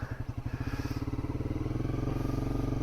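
A motorcycle engine idles close by with a fast, even putter that starts slightly uneven and settles into a steady throb as the bike is brought to a stop and parked.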